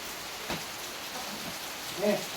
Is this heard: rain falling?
yes